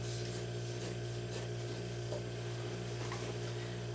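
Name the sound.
cutting across flat felled seams of denim jeans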